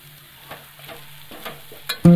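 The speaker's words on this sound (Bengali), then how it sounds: "এখন ভালোভাবে আমি মিশিয়ে নিচ্ছি।" Chicken and mashed potato with chaat masala being stirred in a pan, giving soft scraping strokes at an irregular rhythm over a faint steady hum, with a louder clatter at the end.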